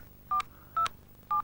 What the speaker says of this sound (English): enter the number you want to call into the keypad